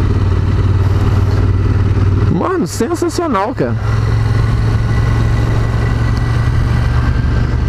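A Ducati Monster 1200 S runs at a racetrack, its engine rumbling steadily and loudly up close, with someone speaking briefly over it in the middle.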